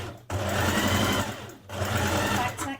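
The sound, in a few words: sewing machine stitching a skirt seam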